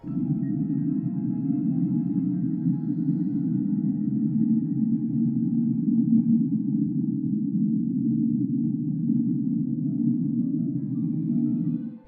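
The "Whistle," an unexplained underwater sound from the Pacific Ocean: a steady, low droning hum that holds at an even level for about twelve seconds, with a faint hiss above it and no breaks.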